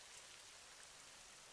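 Light rain falls steadily in a soft, even patter at low volume, with a brief louder knock right at the end.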